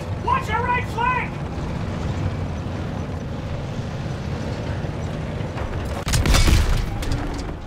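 Tank cannon fire in Call of Duty WWII lands as a loud, near boom late on, over a steady rumbling battlefield bed, with a voice speaking earlier.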